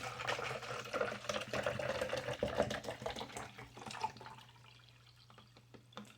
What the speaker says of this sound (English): So we're just gonna pour the water in.